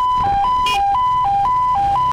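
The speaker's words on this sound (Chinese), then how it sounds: "警车开道一路疾驰，很快在警车的护送下，" Police car siren escorting a vehicle, a loud close two-tone wail alternating steadily high and low for several cycles.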